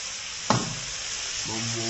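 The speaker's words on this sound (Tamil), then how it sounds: "எங்க அம்மா மசாலாலாம் கலக்கி வச்சிருக்காங்க, அது இப்போ ஊற்ற போறாங்க." A masala mixture poured into a hot pan sets off a sudden close splash and sizzle, settling into steady frying, with a voice speaking briefly near the end.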